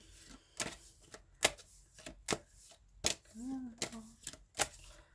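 Tarot cards being shuffled by hand, sharp riffling snaps repeating at uneven intervals, close and fairly quiet, with a brief voice heard between them.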